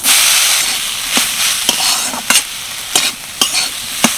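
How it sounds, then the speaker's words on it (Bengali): Freshly grated tender coconut fried in a wok, a loud steady sizzle with repeated sharp scraping strokes of a spatula stirring it at close range. "তার জন্য একটা কচি নারকেল আগে থেকে কুড়ে নিয়েছি এটাই এখন কড়াইয়ের মধ্যে দিয়ে দিচ্ছি"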